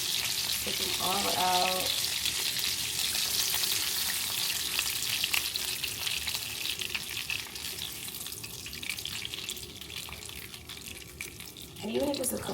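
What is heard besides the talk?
meat browning, frying in a pot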